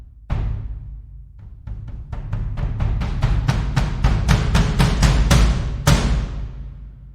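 Audio Ollie LA Modern Percussion samples played one after another in a rising run, each hit ringing out and growing from quiet to loud, ending on one strong crash.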